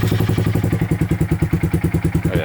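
A 2023 Honda Grom with its exhaust baffle removed runs loud and close, a rapid, even pulsing thump with a deep raw rumble and no talk over it.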